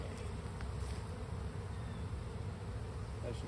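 A dense, continuous hum of honeybees fills the air as frames of a Layens hive, newly stocked from a swarm trap, are handled during the first inspection.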